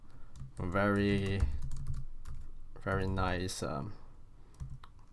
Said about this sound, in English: I want to start typing in some sample data